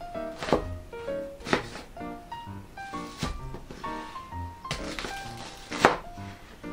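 A knife thunks down onto a cutting board several times, cutting an onion in half, sharp separate cuts over soft background music.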